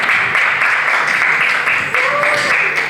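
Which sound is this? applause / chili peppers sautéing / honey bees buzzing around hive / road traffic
applause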